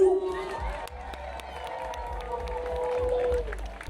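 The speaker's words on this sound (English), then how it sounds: "Let's make some noise for Aladdin, Jasmine, and Abu." Crowd at an outdoor costume contest cheering, whooping and applauding in a noisy sustained roar, with an amplified voice and shouts mixed in.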